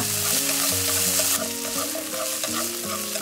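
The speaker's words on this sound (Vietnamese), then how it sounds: "Xào khoảng 1 phút." Chinese sausage, carrot and green beans stir-fry in a hot pan, giving a steady, loud sizzle with scraping and tossing from a utensil, close up and without any voices.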